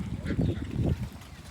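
A couple of nasal duck quacks nearby, short and close together, with faint background noise.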